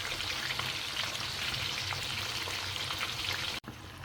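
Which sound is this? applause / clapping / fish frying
fish frying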